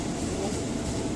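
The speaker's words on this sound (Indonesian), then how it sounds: "ini kereta ke Kampung Bandan" A commuter train bound for Kampung Bandan rumbles steadily at a busy station platform, a dense, continuous low roar with no pauses.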